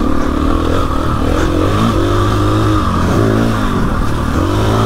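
KTM EXC-F 450 motorcycle engine ridden on the move, a close, loud single-cylinder drone whose pitch rises and falls with repeated throttle changes and revs.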